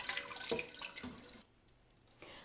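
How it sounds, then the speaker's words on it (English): Fresh water pours from a tap over lima beans in a cooking pot, a close, bright splashing stream for about a second and a half before it drops to a faint trickle, then swells again at the end. "Now I'm just going to pour some fresh water on top of these beans."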